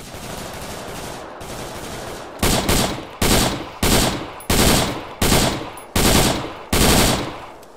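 Automatic gunfire in SOG Prairie Fire, a dense rattle at first and then six or seven loud, evenly spaced bursts close by, each cutting off sharply.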